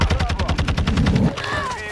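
Automatic gunfire in Warzone 2 (Modern Warfare 2), a fast, even stream of about a dozen close, loud shots that stops abruptly, followed by a short tail of game sound.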